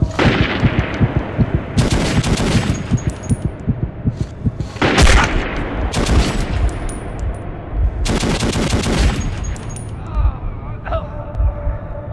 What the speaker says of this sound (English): Oh, okay, gunfire's aimed at me.